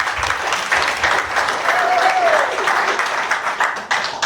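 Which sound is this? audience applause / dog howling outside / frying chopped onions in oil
audience applause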